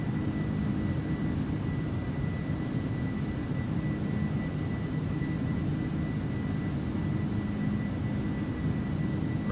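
A steady, droning roar of engine and airflow fills a cargo aircraft's cabin as it climbs after the flaps come up, continuous and unchanging throughout.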